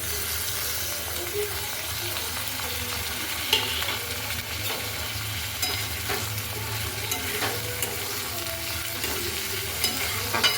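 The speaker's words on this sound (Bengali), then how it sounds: "এবারে আমি এর মধ্যে এই ক্যাপসিকামটা আর টমেটোটা দিয়ে দিচ্ছি।" Capsicum and tomato go into a pan of softened frying onions for paneer bhurji, giving a constant dense sizzle under steady scraping stirs and occasional clinks, with no talking over it.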